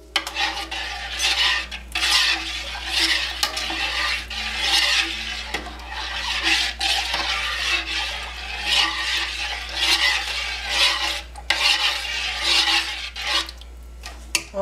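Cold process soap batter of oils and lye being stirred by hand, a steady run of scraping and swishing strokes against the container, close and fairly loud, with no talking.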